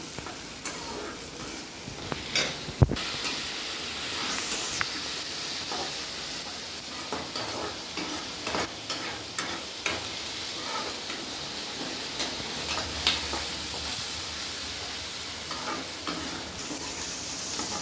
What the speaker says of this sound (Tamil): இந்த வெங்காயம் தக்காளி எல்லாமே நல்லா வதங்கிட்டு